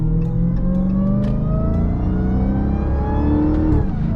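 Dodge Hellcat V8 engine revving hard and held in one gear in manual mode, a loud, steady rising roar with harmonics climbing over about four seconds, no shift and no talking.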